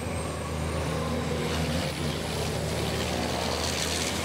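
A racing truck engine at the FIA ETRC round in Budapest, heard on board as a loud, constant, droning roar with steady pitch and broadband mechanical noise.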